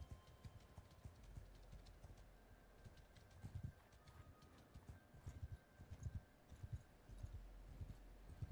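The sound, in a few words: horse hooves of cavalry in video game Mount and Blade 2: Bannerlord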